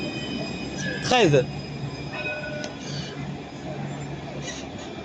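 A tram pulls into the Jean Médecin stop in Nice, its wheels squealing briefly and loudly against the rails, then a steady rumble of the train at the platform with someone talking nearby.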